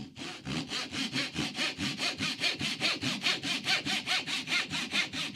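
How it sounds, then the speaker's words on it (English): A hand saw cuts through wood in a fast, even rhythm of about two dozen back-and-forth strokes, each rasping pass loud and close, with no talking. "It's a lot nicer to saw with than it was with that handle."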